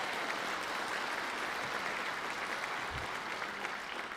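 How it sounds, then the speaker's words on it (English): A crowd claps steadily and continuously, a dense even patter of many hands filling the room with no voices over it. "you can applaud her"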